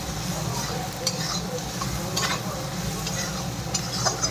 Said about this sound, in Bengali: দিয়ে এখন এটা একটু নাড়াচাড়া করে ভেজে নিই ভালো করে।